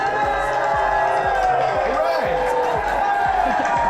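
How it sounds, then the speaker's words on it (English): A crowd at a Bristol 2015 event cheers and stirs steadily in a reverberant hall, a continuous wash of voices with dull thumps and knocks mixed in throughout. "See, everybody is cheering."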